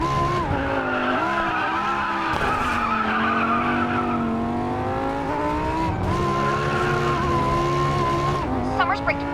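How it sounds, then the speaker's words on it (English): A race car in a racing video game skids after braking too late, its tires squealing in long wavering tones over a loud, constant engine roar. Talk runs over the sound throughout. "Summers braked way too late and hard. He's skidding out."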